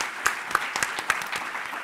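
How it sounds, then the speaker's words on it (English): A conference panel audience applauds with a scattered, moderately loud patter of claps that rises with a few sharper individual claps and continues evenly for the whole stretch. "This is your applause"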